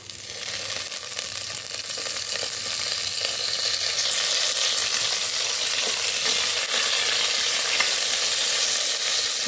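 Whole spices and a bay leaf sizzling in hot oil in a rice cooker, a continuous, close hiss that builds slightly and then holds steady, with faint stirring clicks underneath.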